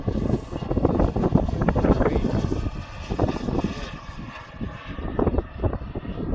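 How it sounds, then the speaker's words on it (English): An RC model F-104 jet at half throttle roars steadily close by on its maiden flight, a loud rushing whine that swells and fades slightly as it passes, with voices talking intermittently underneath. "It's a sweet flying plane"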